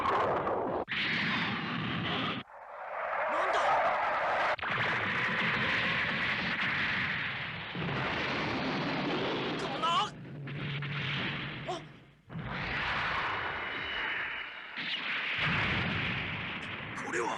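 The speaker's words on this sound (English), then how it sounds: "don't jump right into the gunfire" Heavy bursts of gunfire and booming artillery blasts from the animated film Mobile Suit Gundam roll on in long stretches, separated by brief pauses, with voices occasionally mixed in.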